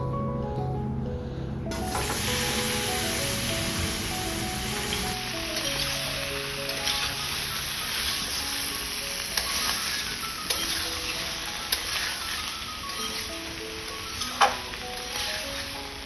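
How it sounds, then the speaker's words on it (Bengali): Boiled vegetables for a Bengali shukto fry in oil with five-spice and bay leaves. A steady sizzle begins abruptly after a moment of quiet and continues with occasional sharp clicks of stirring. "পাঁচ ফোড়ন তেজপাতা হালকা আঁচে ভাজা হয়ে গেল এরপর সিদ্ধ করে রাখা সবজিগুলো দিয়ে দেবো"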